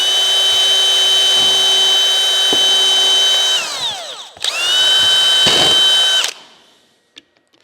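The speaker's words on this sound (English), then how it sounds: "So I'm just going to drill a couple of holes." A power drill whines at full speed, slows and winds down, revs up again for a second burst, then stops, leaving a few small clicks.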